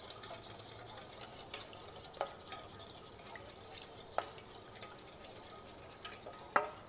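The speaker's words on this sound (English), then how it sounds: "just gonna whisk it all together with my little fork" Fork whisking salted liquid in a small bowl, soft scraping and light stirring clicks with a few sharper taps of metal against the bowl, quiet and close, no talking.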